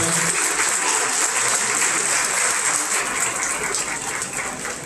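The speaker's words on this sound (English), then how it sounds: "Let's give these kids a round of applause." Steady, hissing applause from a crowd at a 2020 goat show, clapping for the young exhibitors: a dense, even wash of many hands lasting about five seconds without a break.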